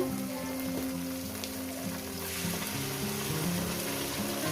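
Onion, tomato and spices frying in a pan for a fish curry, giving a steady close sizzle and crackle that runs unbroken throughout with no voices.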